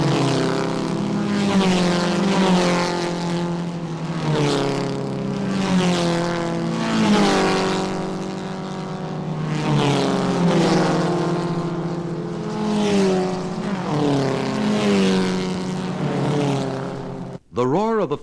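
Racing cars roar past one after another, each loud engine note sweeping down in pitch as it goes by close, with a steady run of passes and a sharp cut near the end.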